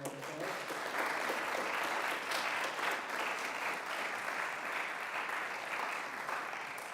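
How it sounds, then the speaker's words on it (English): An audience at a graduate recital applauds the student performers on stage, a dense, steady wash of many hands clapping that fills the whole stretch at even loudness. "So give them one more applause."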